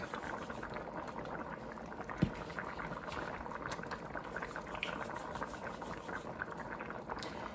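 A pot of Jamaican stew peas with small flour dumplings at a steady boil, soft continuous bubbling and popping, quiet and close, with one brief knock.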